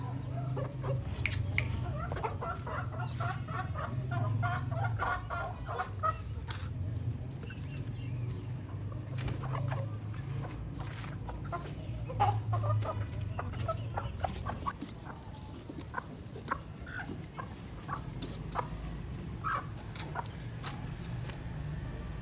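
Aseel chickens cluck steadily and repeatedly at close range, with scattered sharper calls over a low, constant background hum.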